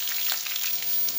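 Chopped onions fry gently in a pan while browning for haleem, a brief, even hiss of sizzling oil heard close and alone.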